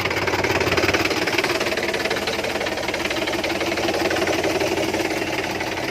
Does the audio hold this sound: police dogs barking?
no